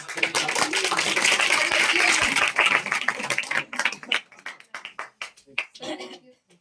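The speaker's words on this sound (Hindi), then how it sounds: "सर ताली बजवा दीजिए" A class of students clapping their hands, a dense, loud burst of clapping that thins out into scattered single claps and fades away.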